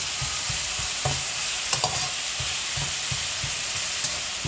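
Onions sizzle in hot oil in a pan for a drumstick and rohu fish curry, a steady loud hiss with occasional stirring scrapes and taps, up close and without talk.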